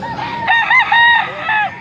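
A rooster for sale at a market crows nearby, a loud drawn-out call with rising and falling tones, heard alone and close.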